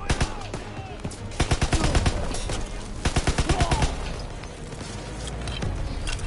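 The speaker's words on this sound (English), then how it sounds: "I don't even know what I'm shooting at right now." Rapid bursts of automatic gunfire in a Call of Duty Zombies game, loud and repeated in rattling volleys with booming shots between them, dense throughout the clip.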